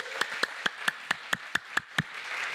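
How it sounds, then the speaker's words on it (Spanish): Hands clapping at a church service, nine sharp, evenly spaced claps in a quick steady rhythm, close and distinct rather than a blended crowd. "Dele un aplauso al Señor"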